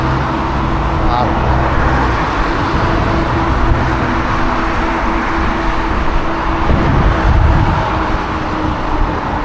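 Road traffic on the outskirts of Tustin heard from a moving eBike on a commute, a constant wash of passing cars and engine rumble close by with wind noise, steady and fairly loud throughout.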